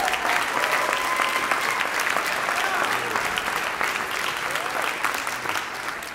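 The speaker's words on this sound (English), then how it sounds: "And how about a warm round of applause for Mr. Eric Newman." A concert audience at the University of Utah claps in warm, sustained applause, loud and even throughout, with faint crowd voices beneath and a brief voice near the start.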